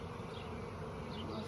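Dense, continuous buzzing of many honey bees swarms close around a hive frame of capped honey and brood, loud and unbroken for the whole moment with no voices.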